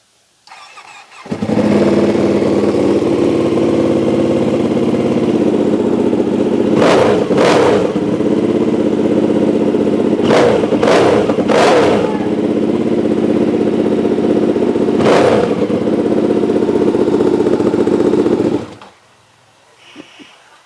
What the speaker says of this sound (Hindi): Now this is how the Ducati 959 पैनिकाले sounds.